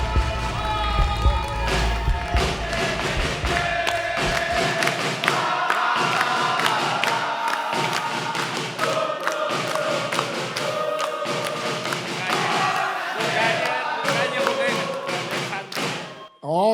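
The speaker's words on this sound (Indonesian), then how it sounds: "Kita minta yel-yelnya lagi, kita minta semangatnya lagi." At a stand-up comedy grand final, a crowd keeps up loud rhythmic chanting with thumping beats and cheers, and the sound stays dense and energetic for the whole stretch.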